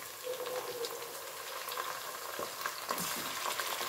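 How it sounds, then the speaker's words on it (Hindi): Chicken legs frying and sizzling in a pan for a dhaba-style spinach chicken curry, with a steady close hiss and occasional scraping stirs throughout. "वो मैं डालूंगी इसके अंदर, और हम इसको थोड़ा सा स्टर करेंगे।"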